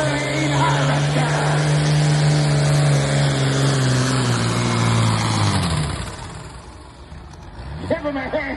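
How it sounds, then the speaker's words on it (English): Modified farm tractor in the 10,500 lb class at a pulling event, its turbocharged engine revving hard with a loud, sustained droning roar that climbs, then suddenly drops off near the end. "bringing up the RPM fast. Turbo goes to work."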